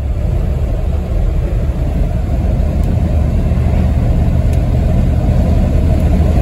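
A 1997 Ford F-250 regular cab 4x4 truck drives along with a loud, steady low engine rumble and road noise from inside the cab.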